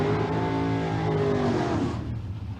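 A 1976 Chevy Nova drag race car rolls into the water box at Famoso Dragstrip, its engine a loud, steady, harmonic rumble that drops away near the end.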